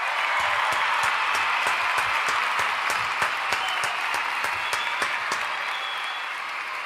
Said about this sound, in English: another round of applause, bro